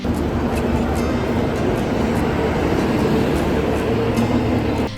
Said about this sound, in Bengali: আমাদের ট্রেন একদম টাইমে 11 নম্বর প্ল্যাটফর্মে দিয়ে দিয়েছে হাওড়া দেরাদুন কুম্ভ এক্সপ্রেস